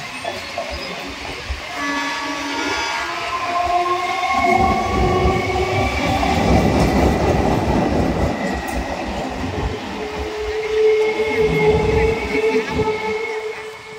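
At Ponneri railway station, a train rumbles past for several seconds with a broad, loud rolling roar and tonal squeals from the wheels and rails, heard up close with no talk.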